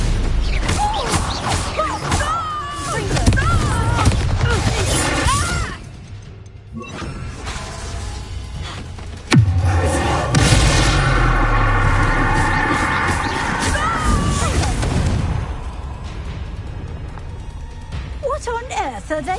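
Confringo blasting-curse explosions in Hogwarts Legacy, sharp bursts and crashes within a busy game fight, with one sudden loud impact near the middle, all under spoken dialogue.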